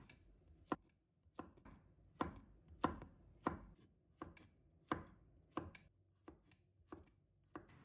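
A knife cuts a bunch of garlic into roll-cut chunks on a board, giving about a dozen sharp, evenly spaced chops, close and fairly quiet with no talk.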